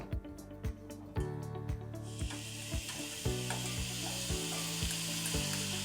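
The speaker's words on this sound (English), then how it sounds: "Now I'm gonna put my meat back in." Meat dropped back into a pot of one-pot chili sizzles and fries steadily, with sharp repeated knocks and stirring clatter over a continuous hiss that grows denser partway through.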